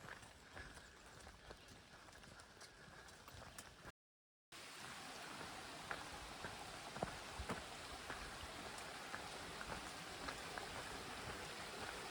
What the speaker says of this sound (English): It's a-raining.